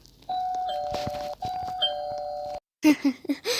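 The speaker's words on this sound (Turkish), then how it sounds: "Sanırım zil çalayım." A video game doorbell in Roblox Brookhaven chimes twice in a clear electronic tone with a slight reverb, then cuts off before a voice begins speaking.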